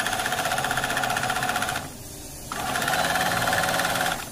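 A sewing machine stitches fabric pieces for a small ladies' hand pouch, running loud and steady in a fast mechanical chatter, pausing briefly midway before resuming.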